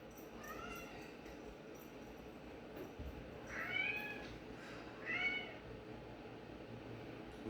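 A pet cat meows twice in a noisy indoor room, two clear, drawn-out calls over a steady background murmur, with a fainter mew earlier on.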